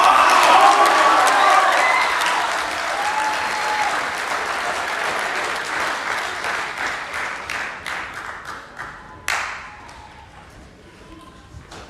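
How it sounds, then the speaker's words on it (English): Audience applause with some cheering follows a student's speech at a Pasifika festival main stage, loud at first, then dwindling into scattered individual claps. "another round of applause for Mr. Isako from Pasifika Boys High School"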